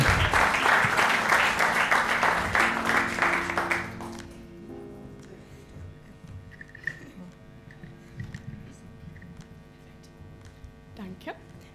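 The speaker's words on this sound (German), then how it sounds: "Bitte klatscht sie auf die Bühne!" An audience at a youth poetry slam bursts into loud, dense applause to welcome a performer onto the stage, then it abruptly fades into quiet room hum after about four seconds.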